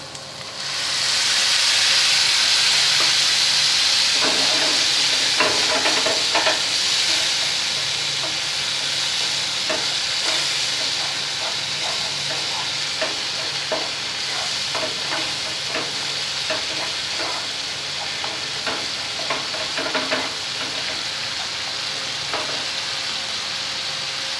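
Tomato puree added to a pan of frying potato and pointed gourd curry, a loud steady sizzle and hiss with intermittent spatula scrapes throughout, close and without talk.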